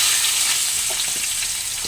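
Green chili and onion fry in hot oil for a curry, giving a steady, close hiss with a few faint stir clicks and nobody speaking.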